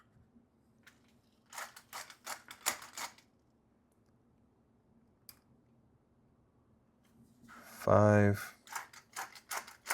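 A Peugeot pepper grinder is turned through its coarseness settings, producing bursts of quick, crisp ratcheting clicks separated by quiet pauses, with a voice speaking briefly between them.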